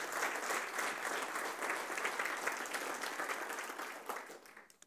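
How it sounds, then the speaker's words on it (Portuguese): Strong, sustained applause from a church congregation, dense and even clapping throughout that fades out at the very end. "dê um aplauso forte para Ele."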